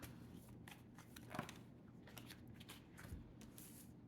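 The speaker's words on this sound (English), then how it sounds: "some cards are flying out" Tarot cards riffled and shuffled by hand, soft papery flicks and snaps scattered across a few seconds with a couple of sharper slaps as cards fly loose, fairly quiet and close.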